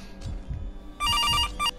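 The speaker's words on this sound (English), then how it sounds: "the phone is ringing" A telephone rings in the horror video game CASE: Animatronics, a couple of bright electronic trills starting partway through after quieter thuds and room noise.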